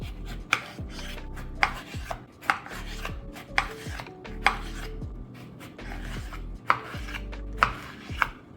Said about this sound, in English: now all the lemons are cut